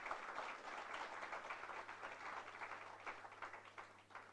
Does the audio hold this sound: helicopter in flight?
no